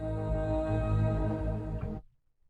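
A horror-style string VST plays a sustained, tense bowed chord that holds steady at full loudness, then cuts off instantly at the release, leaving near silence with a faint trailing rustle and no voices.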